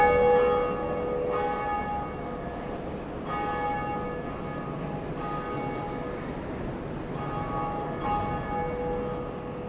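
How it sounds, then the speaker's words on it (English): A church bell tolls repeatedly in Dark Souls as the First Bell of Awakening rings, its resonant strikes spaced a couple of seconds apart over a steady, dense background of game ambience and music. "The first bell of awakening has been rung."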